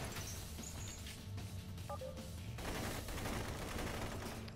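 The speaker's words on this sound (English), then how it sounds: "That's a gun." Gunfire in the video game Blue Estate, a steady dense rattle of rapid shots filling the whole stretch, loud and continuous with brief electronic beeps mixed in.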